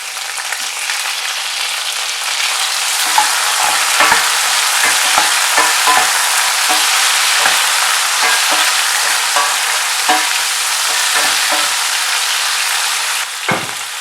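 Tomatoes sizzle steadily in hot oil with small shallot-type onions in a pan, a continuous loud frying hiss broken by repeated clicks and scrapes of a spoon stirring through, with no talk.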